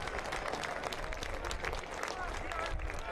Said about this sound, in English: to a round of applause